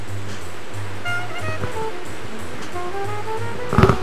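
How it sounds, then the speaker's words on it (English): Beaver Brook Falls in Colebrook, New Hampshire, a waterfall giving off a steady broadband rush of falling water close by, with faint birdsong over it and a brief knock near the end. "This is a waterfall in Colebrook, New Hampshire."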